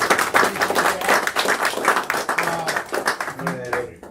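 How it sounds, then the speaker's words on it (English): At an investor meeting, a room of people claps in scattered, uneven bursts of moderate loudness, with a voice speaking over the clapping near the end. "These guys deserve a round of applause."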